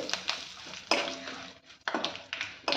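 Cloves, fenugreek seeds and red chillies stir in hot oil with a quiet sizzle, while a spoon scrapes and taps the pan in irregular strokes nearby.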